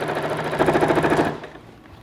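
A sewing machine back-tacks a seam just under the armhole of a garment being altered, a rapid close rattling burst of stitches that stops after about a second and a quarter, leaving quiet handling noise.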